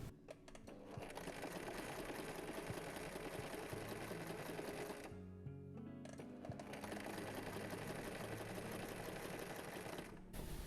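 A sewing machine stitches a zipper into fabric in a fast, steady mechanical whir of needle strokes, close and continuous, pausing briefly midway before resuming.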